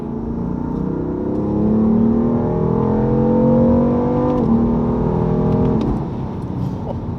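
A BMW M4 accelerating hard on the road, its engine rising steadily in pitch through the gears, loud and close with a brief shift dip before climbing again.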